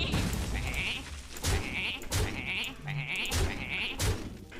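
Sheep bleat repeatedly in the card game Hearthstone, five wavering calls in a row over a busy, noisy game background, with no talking.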